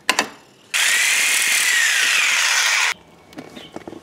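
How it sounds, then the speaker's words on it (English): Power saw cutting aluminum stock: a few faint handling knocks, then a loud, even high-pitched whine of the blade through the metal for about two seconds, stopping sharply into quiet clatter. "now I'm gonna cut this aluminum stock"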